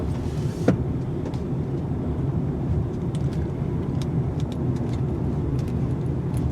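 A 2020 Jaguar I-Pace electric car rounds a turning circle, giving a steady low road and tyre rumble from inside the cabin with light clicks and rattles, after a sharp knock near the start.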